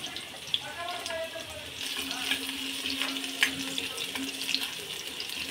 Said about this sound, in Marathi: लसूण छान असा खमंग भाजला पाहिजे तेलामध्ये